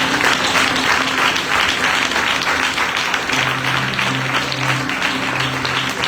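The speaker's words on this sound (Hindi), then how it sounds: "पास्टर इमरान के लिए जोरदार तालियां बजाएं।" Loud, sustained applause from a large church congregation, dense and continuous, with a faint tonal hum underneath throughout.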